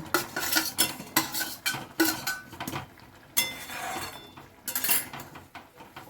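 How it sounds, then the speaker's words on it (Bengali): Paneer pieces added to a pot of boiling gravy and stirred, with repeated metal spoon scrapes and clinks against the pan in an uneven rhythm, plus a soft bubbling hiss. "এখন আমি পনিরগুলো সব এর মধ্যে দিয়ে দেব"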